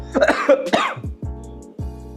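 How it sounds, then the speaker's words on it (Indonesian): A person coughs several times in quick succession, close and loud, the harsh bursts followed by a couple of smaller throaty coughs. "Batuk gua."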